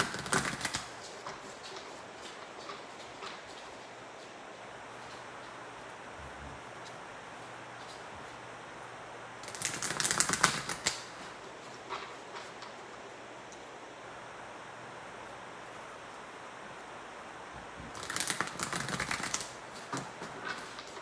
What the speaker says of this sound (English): the energy feels really fast to me as I'm shuffling the cards